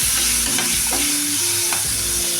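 Potatoes sizzle and fry steadily in hot oil, with a few stirring scrapes of a utensil against the pan, close up and without talk, before spices are added.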